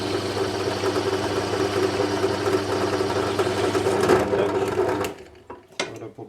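A step drill bit cuts a 10 mm shoulder into metal for a drift trike build, a loud steady whirring grind that stops abruptly, followed by a few faint knocks and clatters.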